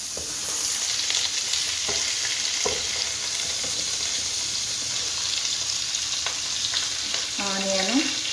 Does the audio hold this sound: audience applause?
no